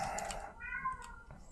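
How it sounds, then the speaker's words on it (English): A pet cat lets out a faint, short meow at a distance behind soft background noise and a few clicks. "my cat is making a noise"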